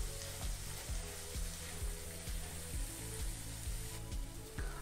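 Masala spice paste frying in oil in a pan for chole curry, a continuous sizzle with a steady run of rhythmic ticking spoon strokes, close and moderate in level, no speech.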